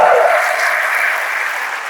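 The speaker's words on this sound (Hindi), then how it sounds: "मैं चाहूंगा जोरदार तालियों के साथ वेलकम करें" An audience at a motivational seminar breaks into loud, sustained applause to welcome a speaker, with dense clapping close by filling both seconds.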